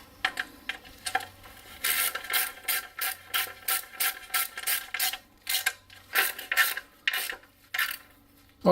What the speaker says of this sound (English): We're just going to nip them all up.